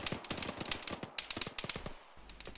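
Rapid bursts of gunfire from the military shooter ArmA 3 crackle in quick repeated volleys, dense and sharp, with brief pauses between strings of shots.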